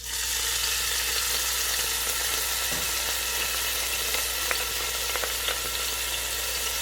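Minced garlic frying in olive oil in a pot gives a loud, steady sizzle that holds evenly throughout, with a few faint clicks of stirring.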